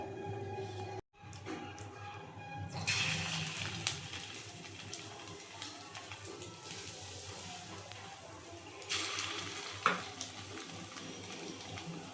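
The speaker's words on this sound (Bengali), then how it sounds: "তো এই দেখো বড়াগুলো আমি দিচ্ছি" Prawn fritters made with gram flour, onion and green chilli go into hot oil. A sudden frothy sizzle breaks out after a brief pause and keeps bubbling, then swells again as more batter drops in.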